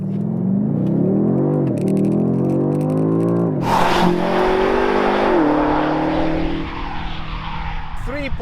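A 2020 BMW X6M Competition, a 625 hp performance SUV, pulls away on the road with a loud, rising engine note that climbs through gears, sharp shifts, then steadier cruising roar.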